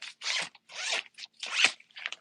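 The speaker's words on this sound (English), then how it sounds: "So you unzip the bottom" A zipper on a compression packing cube is pulled open in several quick, close, crisp bursts separated by short pauses, with no voices.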